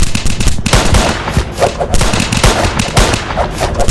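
Gunshots in the Roblox Squid Game, loud rapid bursts of automatic fire cracking in clusters throughout, with brief gaps between volleys.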